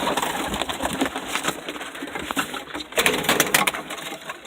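A homing pigeon coos and shuffles close by during handling before a release, soft throaty calls mixed with rustling and faint wing movement.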